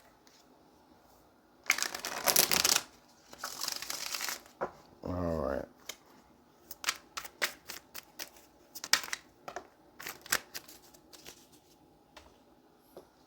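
Tarot cards shuffled by hand in several bursts of riffling and soft slapping, close up and fairly quiet, with a brief spoken word at the start and small taps and rustles between shuffles.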